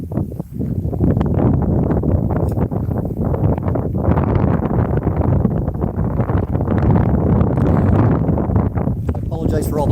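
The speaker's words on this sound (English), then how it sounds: "I apologize for all the wind that you're hearing here." Gusty wind buffets a microphone at a windy outdoor remote broadcast location, producing loud continuous low rumbling and crackling, with a voice talking over it throughout.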